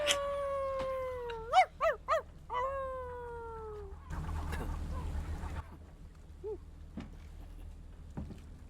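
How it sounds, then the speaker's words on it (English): In the video game Before Your Eyes, a dog gives a quick series of short, clear yelps and barks up close, followed by a burst of noise and a few faint scattered sounds. "So he's a dog."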